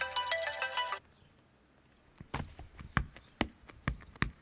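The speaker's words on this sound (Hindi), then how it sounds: "फोन उठाओ ना।" A phone rings with a bright electronic ringtone for about a second, then stops, followed by a string of sharp footsteps or knocks in a quiet indoor room.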